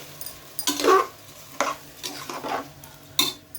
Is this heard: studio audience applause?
no